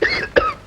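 A man coughs twice in quick succession, two harsh, close, loud bursts with a short gap between them.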